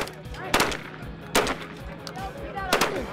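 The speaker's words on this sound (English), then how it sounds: "I figured I'd shoot, do a quick demo with just 25 rounds on the gun." Shotgun blasts at a Crazy Quail clay target demo at SHOT Show 2014: three loud, sharp reports spaced about a second apart, over a steady background hum with faint voices.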